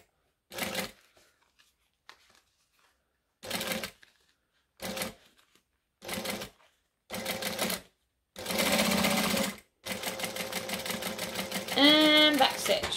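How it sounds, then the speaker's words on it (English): A home sewing machine back stitches in reverse over the last few stitches of a seam, running in several short close bursts and then one longer steady run, with a brief voice between bursts. "I'm going to just go back over the last 3 or 4 stitches that we did, so that will lock in the old ones."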